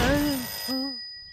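A telephone bell rings in a loud burst, then rings once more more faintly before cutting off, with a person talking over the first ring indoors.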